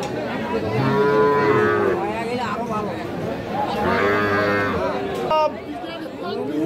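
Sahiwal cattle moo loudly several times nearby at a cattle market, long drawn-out calls over a busy background of people chattering.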